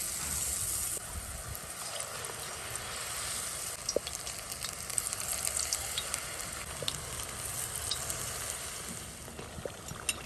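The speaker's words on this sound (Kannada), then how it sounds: "ಎಣ್ಣೆ ಚೆನ್ನಾಗಿ ಕಾದಿರ್ಬೇಕು ನೋಡಿ. ಹಾಕುವಾಗ ಈ ತರ ಬಬಲ್ಸ್ ಬರಬೇಕು." Battered baby corn fritters drop into hot oil and fry with a continuous bubbling hiss, fairly soft and steady throughout, with a few faint clicks and no talking.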